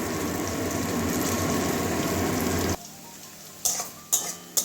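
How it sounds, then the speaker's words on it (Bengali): Chopped onions sizzle loudly in hot oil in a pan for a cabbage curry with jackfruit seeds, a steady frying hiss that stops abruptly partway, followed by a few sharp clinks of a spoon against the pan. "একসঙ্গে ভালো করে পেঁয়াজটা ভেজে নেবো"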